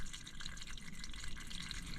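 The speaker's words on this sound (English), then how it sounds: "you can hear the water coming out of it" Water flows out of a garden pond's outflow tube in the rain, a steady splashing, trickling gush heard close and continuous with no voices.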